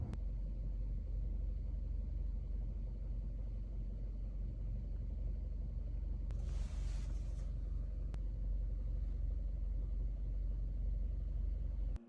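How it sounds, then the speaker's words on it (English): A 2023 Kia Forte GT engine idling in neutral gives a steady, loud low rumble for the whole stretch, with a brief hissy burst partway through and no voices. "I've had my car running, and it's currently in neutral."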